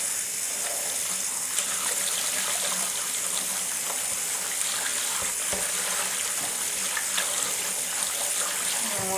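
Cool tap water runs steadily over kimchi cabbage leaves in a sink, a loud, continuous gushing splash that lasts throughout with little change.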